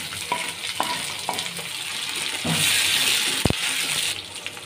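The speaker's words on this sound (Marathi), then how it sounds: "आता कढीपत्ता आणि टोमॅटो टाकून घेणार आहोत" Curry leaves and tomato hit frying onion in a pan: a few utensil taps first, then the sizzle swells into a loud, bright crackling burst that holds steady, with a stir scrape near the end.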